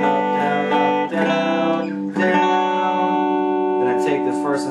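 Sustained guitar chords ring out in a few strummed bursts, bright and close, with a slight effects-laden sheen and no voices.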